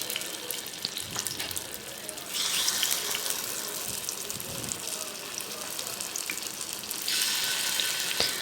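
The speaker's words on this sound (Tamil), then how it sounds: "இப்போ வந்து மாவை ஊற்றலாம்." Wheat masala paniyaram batter hits hot coconut oil in a pan, giving a steady close sizzle that swells louder around two seconds in and again near seven seconds, with no talking.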